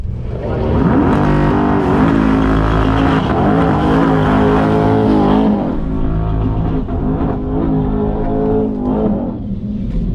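A loud, close Chevrolet Corvette C8 sports car engine roars and climbs through revs at a drag race, easing briefly between gear shifts before pulling hard again.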